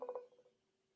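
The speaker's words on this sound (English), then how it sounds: "I'm making a phone call for my co-host tonight." Two or three short telephone keypad tones beep in quick succession as a call is dialed, fading into faint hiss, with no voices.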